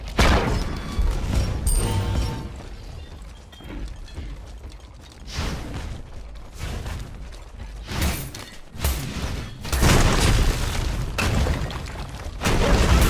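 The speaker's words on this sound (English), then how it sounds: "Destroyed middle enemy tower." Enemy middle tower being destroyed in SMITE amid game combat effects, with loud crashing, booming and mechanical clanks in repeated bursts.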